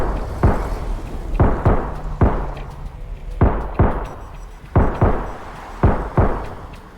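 Gunshots in a video game police shootout: about ten loud, sharp reports fired in irregular pairs and singles, each with a short booming tail, and no talking over them.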